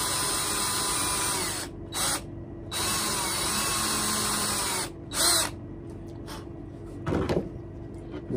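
A power drill bores a hole into a wooden ball meant to top a walking stick, a loud whining bursts in several separate runs with short pauses, ending in a few quieter clunks.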